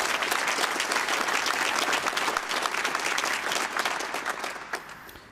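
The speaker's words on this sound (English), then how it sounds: "So another round of applause." Audience at PromCon EU 2024, a Prometheus conference, applauds the speakers with steady, dense clapping that holds through most of the stretch before starting to thin toward the end.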